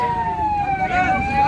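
An ambulance siren on National Highway 152 during a farmers' road blockade, a loud, wavering wail close by, with traffic and crowd noise beneath.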